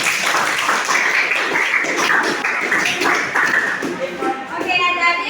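A high-school class applauds in a classroom, a continuous bright patter of many hands clapping close by and fairly loud, with some voices mixed in underneath.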